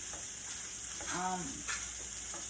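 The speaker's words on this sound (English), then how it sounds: "So I'm going to add my corned beef into my pan." Canned corned beef sizzles and fries steadily in a pan, close and continuous, with a faint stir or scrape partway through.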